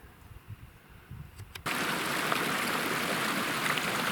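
A mountain creek beside a cold, icy trail flows quietly, then swells abruptly into a loud, steady broadband rush of running water that continues without a break.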